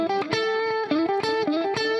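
A distorted electric guitar plays a short minor pentatonic lick, with picked notes repeating in quick succession and bending between pitches, loud and upfront with no talking.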